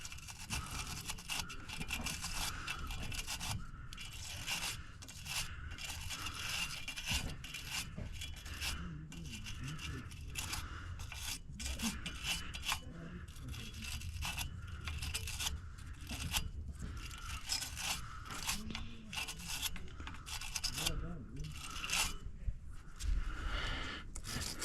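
A cordless drill spinning a wire brush scrubs a metal part during mobile mechanic work, giving a steady, close, continuous abrasive scratching with brief stops and restarts throughout.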